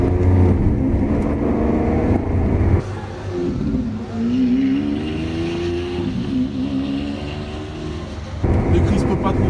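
A 740 hp supercar accelerates, its engine climbing in pitch through gears with a steady loud roar and shifts between pulls; the sound is close, heard from inside the cabin.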